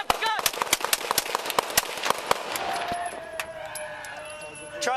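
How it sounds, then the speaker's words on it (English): A burst of handgun shots from two police officers' duty weapons, about fifteen sharp cracks in rapid irregular succession, loud and close, followed by ringing and background noise. "Both officers fired their duty weapons towards Armenta."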